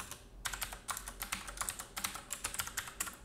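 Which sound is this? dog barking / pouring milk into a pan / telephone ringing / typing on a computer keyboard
typing on a computer keyboard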